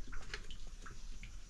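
Water leaks from a gutter and drips nearby, several faint, separate drops landing over a soft background hiss.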